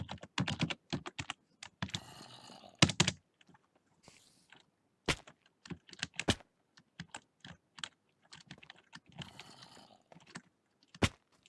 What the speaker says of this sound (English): just type it